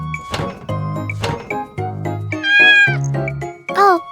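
Cat meowing, two long clear meows in the latter half with shorter vocal sounds before, close and loud, no talk over them.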